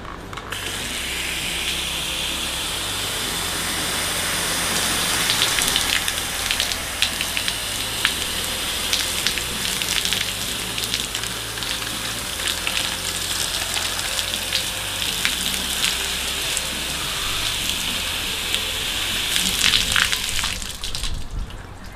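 Water sheeting and running off a car body panel treated with Infinity Wax QDX graphene wax, a steady broadband splashing rush like a spray or pour that holds for the whole stretch with small surges, near and with no voices.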